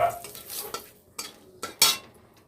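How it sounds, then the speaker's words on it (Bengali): Bay leaves drop into hot oil left over from frying fish, giving short bursts of sizzle mixed with scraping stirs and utensil clinks, spaced out and close by. "তেজপাতা ফোড়নে দিলাম"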